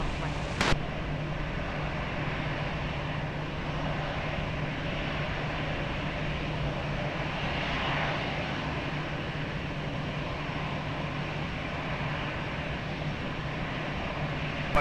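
A jet airliner on short final for runway 20 at Lisbon Airport, a steady broad engine roar that swells slightly midway, heard from a distance with no talking.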